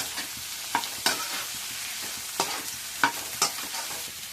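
Fried rice with cabbage is stirred in a pan, giving a soft continuous sizzle punctuated by several sharp scrapes and clacks of the spatula at irregular intervals, with nobody speaking.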